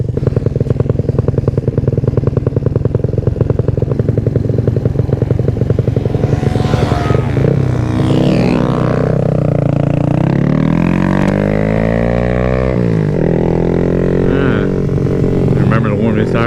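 A Honda Grom race motorcycle engine buzzes loud and near while riding, with revs climbing and falling through gear changes and a rider speaking over it.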